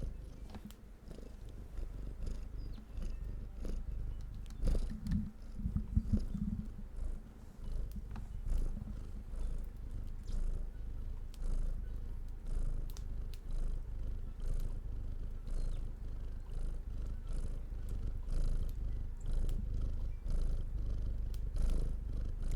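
A house cat purrs close up in a steady, low, rhythmic rumble that carries on for over twenty seconds with a few soft bumps, and nobody speaks.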